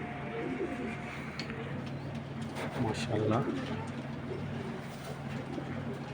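A large racing pigeon gives soft, low throaty coos, faint beneath someone talking nearby amid steady background noise.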